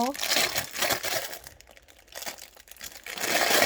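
Crinkly plastic packaging being pulled open around a cinnamon-themed squeeze toy from a Daiso store, loud close rustling and crackling that pauses briefly midway, with a voice speaking over it.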